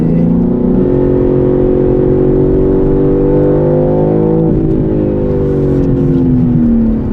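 A BMW M3 CS with all-wheel drive pulls away on a track and accelerates hard, its engine note climbing steadily and loud throughout with a brief dip midway, close and continuous.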